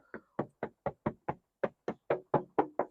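Knuckles rap about twelve times on the metal body of a Chrysler 200S car, giving sharp, close, evenly spaced knocks with a short pause partway through.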